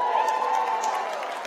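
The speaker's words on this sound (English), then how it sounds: "I don't really know what you're cheering for," A graduation commencement crowd cheers for law school graduates, making a steady, even roar of many voices that fills the hall without a break.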